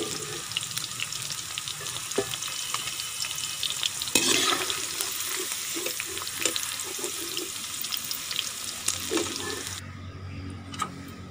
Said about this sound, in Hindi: बहुत ज़्यादा फ्राई नहीं करना, हल्का सा फ्राई करना